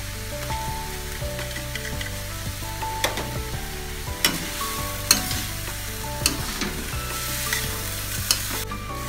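Vegetables with celery, chicken cubes and fish sauce stir-frying for spring roll filling, a steady close sizzle broken by repeated scraping and clanking stirs of the utensil against the pan.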